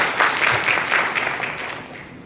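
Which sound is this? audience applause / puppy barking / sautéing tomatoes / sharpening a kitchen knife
audience applause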